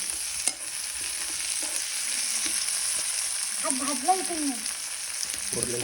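Chili and tomato hiss steadily as they fry in a hot tempering with oil and onion, a constant close sizzle with occasional stirring and a short faint voice-like tone partway through.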